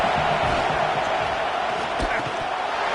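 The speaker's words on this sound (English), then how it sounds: "how nice is it to have the home crowd going absolutely bananas?" Home crowd roaring at an LSU versus Arkansas college football game, a loud, sustained wash of cheering and whoops with a sharp thump near the middle and a voice talking through it.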